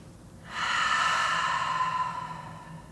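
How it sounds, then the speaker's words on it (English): Deep, slow breath drawn in and released during a yoga flow, a soft airy rush that swells after a quiet start and holds steady for over two seconds, close and alone. "let's go ahead and take a few deep breaths together here"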